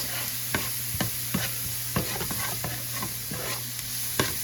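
Fresh garlic and onion stirred in a hot pan, a steady close sizzle broken by repeated sharp scrapes and clicks of a utensil at an uneven rhythm, with no talking.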